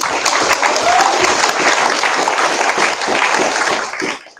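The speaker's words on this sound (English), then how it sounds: "Can we get a round of applause for birthday night?" A crowd at a live-streamed Alcoholics Anonymous meeting applauds to celebrate a birthday, loud and close with a few whoops mixed in, then the clapping tapers off at the very end.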